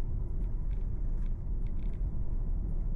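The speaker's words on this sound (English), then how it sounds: "this road right here, super noisy" Steady low road rumble fills the cabin of a 2024 Kia Carnival SX Prestige minivan on a coarse, noisy road surface, a continuous droning tire roar with faint scattered ticks above it and no talking.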